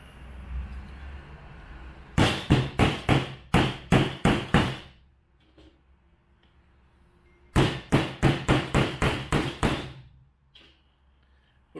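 A phone is struck hard against a phone screen protector like a hammer, in two bursts of about eight sharp, rhythmic knocks each, separated by a few seconds of quiet.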